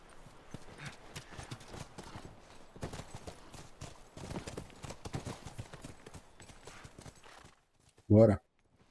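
Horse hooves clip-clop steadily in The Last of Us video game, a quick rhythmic trot running under game sounds, ending with a short loud burst near the end.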